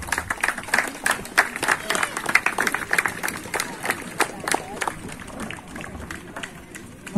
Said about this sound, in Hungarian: Kérem, tapsolják meg őket!